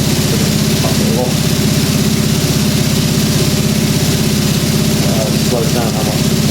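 A washing machine, named Sadie, runs its spin cycle, a loud steady low hum and whir that holds an even drone throughout.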